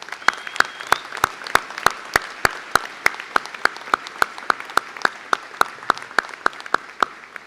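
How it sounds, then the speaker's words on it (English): Audience at a college commencement clapping for student veterans, applause that starts out as sparse, distinct claps and keeps a loose, spread-out rhythm the whole time. "Please join me in a round of applause for them."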